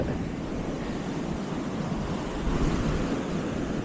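Continuous broadband rush of surf washing on Morawala beach, Sri Lanka, steady and fairly soft, with wind buffeting mixed in and no voices.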